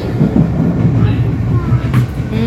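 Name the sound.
train passing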